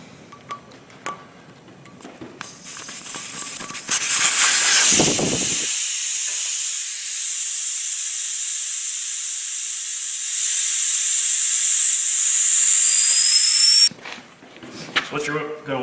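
Air hissing steadily and loudly out of a tire valve stem with the valve core removed, a continuous bright rush lasting about ten seconds before cutting off abruptly, with tool and workshop noises before and after.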